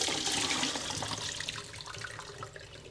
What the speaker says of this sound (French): puis remettre de l'eau assez froide dessus pour stopper la cuisson.